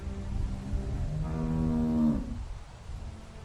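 A cow in The Walking Dead video game gives one long, drawn-out moo that swells and then tails off, heard close against a steady low background hum.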